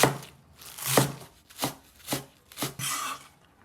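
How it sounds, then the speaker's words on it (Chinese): A knife chopping Chinese garlic chives into even segments on a cutting board, five or six distinct, fairly loud chops at an uneven pace, heard alone without talk. "下面把韭菜也给它切一切"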